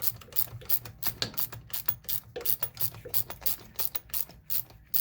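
A ratchet wrench loosens the threaded brush holders on an HWH RV hydraulic pump motor, clicking in a fast, steady string of sharp close-up pawl clicks that runs the whole time with no talk over it.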